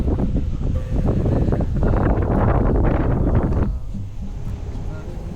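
Strong wind buffets the microphone in loud, rushing gusts during a bike ride to go bass fishing, easing a little near the end.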